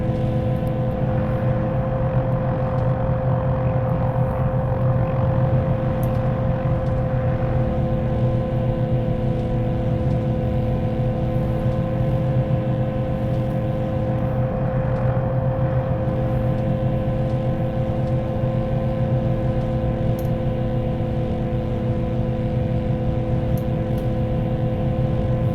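Shrike 530F helicopter in Microsoft Flight Simulator spooling up to rotor RPM for takeoff, a steady, loud turbine whine layered over a pulsing low rotor drone, unchanging and with no talking.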